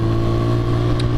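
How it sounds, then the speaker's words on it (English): A motorcycle with its exhaust baffle removed runs close by, its engine holding a steady, loud, throaty drone without a clear rise in revs. "I'll give it a little rev so you guys can hear the sound of it"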